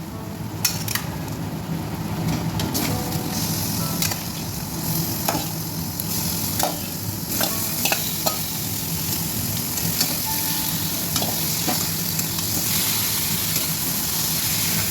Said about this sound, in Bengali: এখানে আমার পেঁয়াজ আর মাংসটা একসঙ্গে ভাজা হয়ে যাবে, আমি ততক্ষণ ভাজবো।